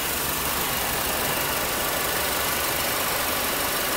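A Mercedes-Benz C200 CGI BlueEFFICIENCY Elegance engine idles quietly with a steady, even hum. The sound is continuous and unchanging throughout, with no voices.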